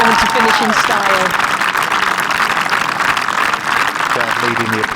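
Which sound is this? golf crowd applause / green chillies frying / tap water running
golf crowd applause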